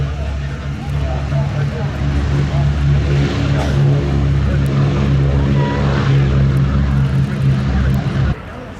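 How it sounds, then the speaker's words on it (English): A Boeing B-17 bomber rolls at an air show at Yeovilton, its piston engines giving a loud, steady, deep droning hum that carries for about eight seconds before cutting off sharply, with a public-address voice talking over it. "So here goes the B-17 then rolling."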